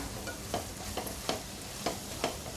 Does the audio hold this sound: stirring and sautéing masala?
yes